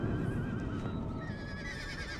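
Cavalry horses in the video game Empire 2 whinny and neigh in a steady stream over a dense battlefield din, with a faint clip-clop of hooves close by.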